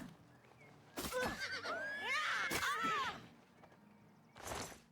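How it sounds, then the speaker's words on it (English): A horse in the fantasy video game Oblivion neighs loudly with a long rising and falling whinny, accompanied by a few hoof clops and thumps, close and clear with no talk. "I really don't need to ride my horse, but I guess we will."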